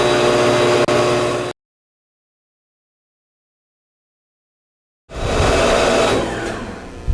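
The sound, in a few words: Electro Arc Model 2-SAC machine burning a hole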